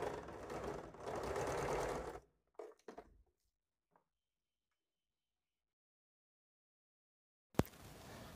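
A sewing machine stitches the neckline of a boat-neck blouse, running steadily for about two seconds, then giving a few short bursts before falling silent, with a brief clatter near the end.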